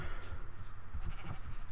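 Sheep bleating in Minecraft, a few short wavering bleats at moderate level over faint background noise.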